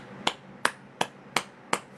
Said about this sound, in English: Clap one more time.